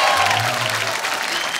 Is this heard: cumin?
no